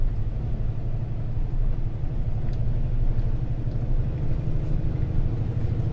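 A heavily loaded 10-tonne truck engine drones low and steady under strain while driving, a close and continuous rumble with no talk over it.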